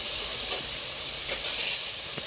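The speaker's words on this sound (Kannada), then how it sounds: "ಇವಾಗ ಎಲ್ಲ ಮಿಕ್ಸ್ ಮಾಡೋಣ. ಹಾಗೆ ಮಿಕ್ಸ್ ಮಾಡಿದ್ದೀನಿ." Turmeric powder and mutton masala being stirred into a hot pan for a rustic mushroom curry, a steady frying sizzle with a few brief scraping stirs, close and alone.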